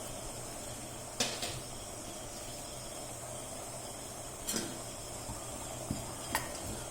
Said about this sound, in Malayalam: അതിൻ്റെ കൂടെ തന്നെ നമുക്ക് കുറച്ച് തേങ്ങയും വറുത്ത്